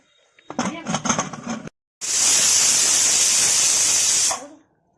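A loud, steady high-pitched hiss of a pressure cooker whistle, cooking khandvi, blows for about two seconds after a burst of clattering, noisy sound.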